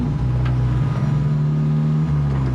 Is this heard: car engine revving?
yes